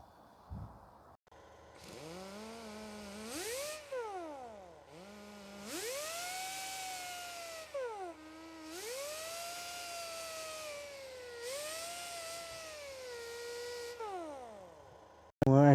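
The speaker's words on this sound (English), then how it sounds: "Just grab yourself the wire wheel or something and just clean off the rust on the threads." Wire wheel spinning against rusty bolt threads during rear hub work on a 2005 Toyota Corolla, a whining motor that rises and falls in several loud bursts with harsh scraping bristle noise between pauses.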